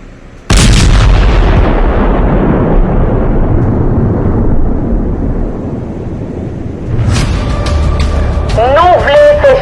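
Drone-dropped explosive blast hitting a gang leader's vehicle in Village de Dieu, Haiti: a sudden loud boom followed by a long, rolling rumble that slowly fades. Voices and other sounds enter near the end.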